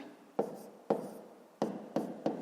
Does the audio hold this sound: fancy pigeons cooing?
no